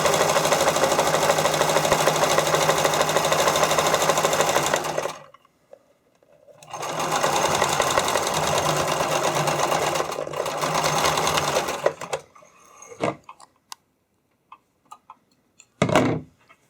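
A sewing machine runs steadily while stitching elastic onto spandex for skate covers, with two long bursts of loud, even whirring separated by a short pause, then scattered handling clicks.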